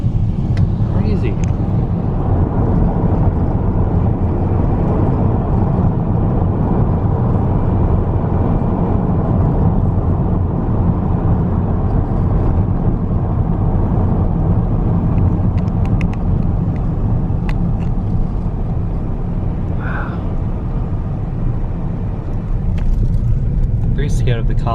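A car drives along an outback road through Mungo National Park, a steady loud engine and tyre rumble from inside the vehicle that holds nearly constant throughout.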